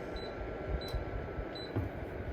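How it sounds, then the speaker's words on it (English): Three short, faint electronic beeps from a space heater's control buttons, each with a soft click, spaced evenly over a quiet steady hum. "Notice that each click makes it beep."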